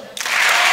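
A burst of applause breaks out from a live podcast audience in a theater, starting abruptly from quiet and quickly swelling into loud, dense clapping.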